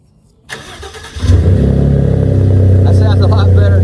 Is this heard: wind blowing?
no